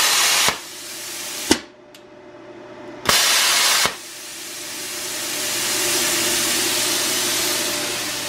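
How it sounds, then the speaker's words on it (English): An old, worn plasma cutter switching on, releasing a loud, steady rush of hissing air, briefly cut off and restarted a few times with sharp clicks, then running continuously and close. "Let's flip her on."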